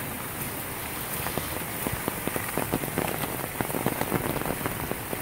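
Steady heavy rain during floods, nearly 200 mm in 24 hours, patters on a surface, with scattered individual drops ticking sharply through the continuous wash of falling water.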